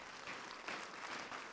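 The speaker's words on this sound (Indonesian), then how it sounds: "Kun Tosit, tepuk tangan." An audience at a business marketing conference applauds, a steady wash of clapping from many hands that sounds moderately distant and even throughout.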